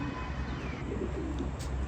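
Rain-soaked pigeons coo softly in their loft, low murmuring calls repeating against a steady background hum.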